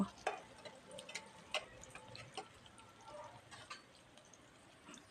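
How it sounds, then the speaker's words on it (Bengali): Whole cumin seeds fry with chopped onion and garlic in a pan, a faint hiss under a series of light clicks and scrapes as a spoon stirs them at an uneven pace. "এবারে কিন্তু সুন্দর করে নেড়ে চেড়ে ভেজে নেব"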